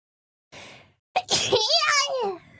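One short, sharp sneeze heard close, preceded by a soft breathy inhale and followed by a high, wavering whine-like vocal sound.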